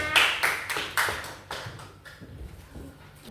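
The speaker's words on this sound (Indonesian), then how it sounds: "Tepuk tangan kita semua." A classroom of students during a biology lesson gives a short round of applause, a few sharp claps at the start that loosen and fade over a few seconds, fairly near.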